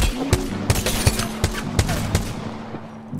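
G7 Scout rifle shots in a video game: a steady series of about ten crisp, sharp cracks at an even, moderate pace, each with a short tail over a constant background hum.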